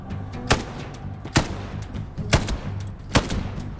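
Gunfire in a milsim video game: four sharp, loud single shots spaced roughly a second apart over a steady low rumble of game ambience.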